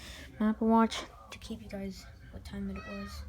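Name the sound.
cat meowing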